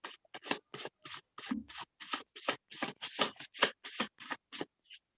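Tarot cards are shuffled by hand in a quick series of crisp, papery riffles and slaps, close and fairly loud, with brief gaps between the bursts.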